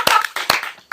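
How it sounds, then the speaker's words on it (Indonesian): A few people clapping in short, close bursts during a casual chat about Javanese fried rice, several quick sharp claps with brief gaps between. "Beri tepuk tangan untuk saya teman-teman"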